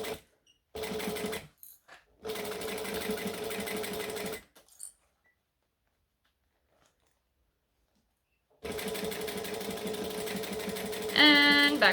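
A sewing machine stitches a crossbody bag in short bursts, stopping and starting, then running steadily again after a long pause; close and fairly loud, ending with a brief high rattling whir.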